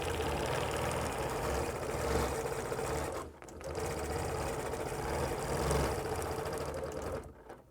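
A sewing machine stitches continuously while free-motion quilting circles on a quilt, a steady mechanical whir with a brief pause near the middle and a stop at the end.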